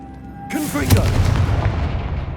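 A Confringo fire-blast spell in Hogwarts Legacy erupts with a sharp, loud crack at half a second, followed by a second punchy hit and a deep, rumbling explosion tail fading away, with a brief voice-like sound mixed in.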